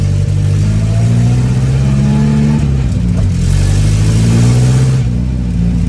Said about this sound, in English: It was a long time ago since I drove a 4-cylinder without an exhaust.